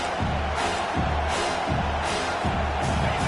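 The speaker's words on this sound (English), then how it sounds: "how nice is it to have the home crowd going absolutely bananas?" Home crowd at a Washington vs Notre Dame college football game cheering loudly, a dense sustained roar of a packed stadium with rhythmic pulsing swells.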